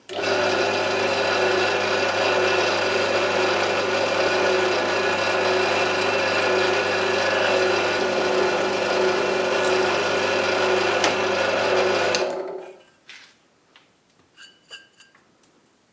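A drill bores two 3 mm holes in a tachometer housing, giving a loud, steady whine that runs continuously for about twelve seconds and then stops, followed by a few faint clicks and handling sounds.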